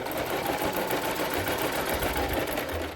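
Sewing machine running steadily while stitching a straight line on fabric, a continuous close, loud mechanical whir with rapid even needle rhythm throughout, no speech.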